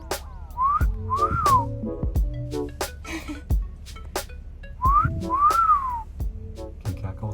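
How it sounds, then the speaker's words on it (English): A person whistling a cat call, two rounds of the rising-falling wolf whistle separated by pauses, close and clear amid scattered background clatter. "No, cat call. Whistle like that."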